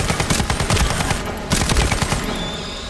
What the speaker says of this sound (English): the gunfire was a bit much